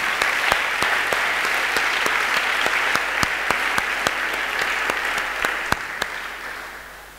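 A church congregation at a solemn gathering applauds in a sustained wash of clapping with sharp individual claps standing out, then slowly fades toward the end.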